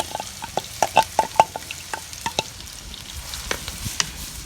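Four chopped onions sizzle in hot groundnut oil while a spoon stirs them, with repeated metallic scraping clicks over a steady close frying hiss.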